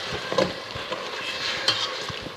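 A honey, butter, caramel and sugar mixture being stirred as it melts in a pot for honey gingerbread, giving a close, steady scraping and soft sizzling with occasional spoon taps, no voices.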